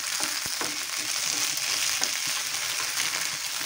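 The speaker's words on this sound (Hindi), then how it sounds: "इसमें हम पोटैटो ऐड कर देंगे और अच्छी तरह से इसको भून लेंगे।" Potatoes frying with sago in a pan, a steady hissing sizzle with a few sharp stirring clicks, close and even throughout, no speech.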